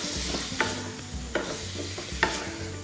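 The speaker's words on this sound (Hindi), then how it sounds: "हाई फ्लेम पे आलू को अच्छे से 10 से 15 सेकंड भूनेंगे" Potatoes stirred and roasted in a pan over a high flame give a steady close sizzle, broken by sharp scraping strokes of the spatula about every three-quarters of a second.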